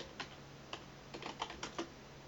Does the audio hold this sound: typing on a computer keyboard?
yes